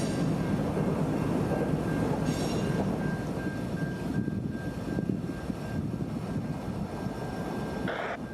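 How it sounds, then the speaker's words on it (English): A long freight train rumbles slowly past at close range in New Orleans, with a constant low roar, a sustained high whine, and occasional clanks and screeches. "this beast is a long train passing slowly, backing up traffic in both directions"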